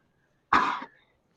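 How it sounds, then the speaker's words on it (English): An eight-year-old gelding gives one short, harsh cough while exercising, close and clear against a quiet background. "There's some of that coughing I was talking about."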